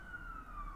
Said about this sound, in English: sirens now. I mean sirens.